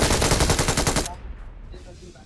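A dropped machine gun fires in a mobile battle royale game as a close, loud rapid burst of evenly spaced shots that cuts off sharply about halfway through, leaving quiet game ambience.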